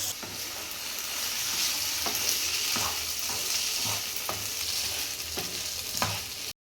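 Red pasta is stirred in a pan with tomato sauce and soy sauce: a continuous gentle sizzle runs under regular scraping strokes of a spoon against the pan, close and moderately loud.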